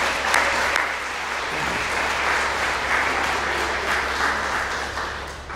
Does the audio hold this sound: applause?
yes